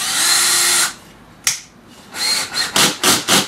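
Cordless drill driving screws to secure a wooden backer inside a drywall hole, one long close whir, a sharp click, then a series of short rapid bursts of the motor.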